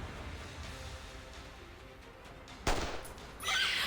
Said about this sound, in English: A shot lands on one of the snarly Kiki-tuk